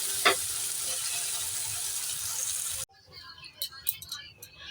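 Vegetable paste made with bottle gourd leaves stirred and fried in a wok with leftover oil, a steady close sizzle with a scrape that cuts off abruptly, followed by quieter kitchen clatter.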